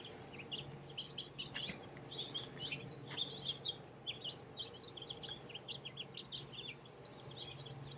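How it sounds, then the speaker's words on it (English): Birds chirp and tweet steadily in short bright bursts over a low outdoor hum in a gated residential area of Las Vegas, moderately close, with no talking. "Hear the birds,"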